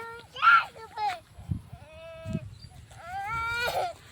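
A nearby goat bleats several times in wavering, high calls, with short pauses between them, while a person's voice is heard in between.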